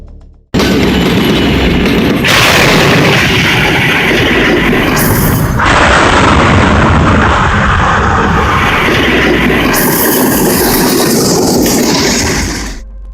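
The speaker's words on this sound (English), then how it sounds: "Scene of a train crashing into an 18-wheeler tractor-trailer on Old Dowd Road." A train slams into an 18-wheeler tractor-trailer on Old Dowd Road, a loud sustained roar of impact and grinding metal that lasts over ten seconds, shifting in tone before fading out.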